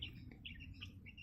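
Old laying hens, nearly two years old, give faint, soft chirps and cheeps in a quick scattered run, heard at a distance in a quiet garden setting.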